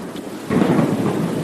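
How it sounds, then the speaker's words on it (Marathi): A loud thunder rumble rolls in over steady rain, swelling suddenly partway through and continuing as a dense, close storm wash with no voices. "मेघ गरजतात विजा कोसळतात पर्जन्य पडतो"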